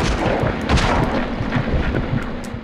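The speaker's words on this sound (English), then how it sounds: "I'll use the pistol" A pistol fires repeatedly in Silent Hill: Origins, loud, close shots and booms in quick succession over a dense, rumbling game soundscape.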